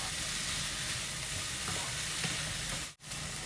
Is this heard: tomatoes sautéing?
yes